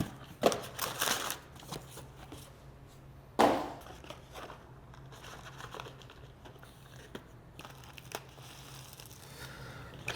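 Parts from a Classic Mini SU carburetor kit are unpacked from their box: close, scattered crinkling and rustling of packaging with a couple of sharper crumpling bursts, fairly quiet and alone with no talk.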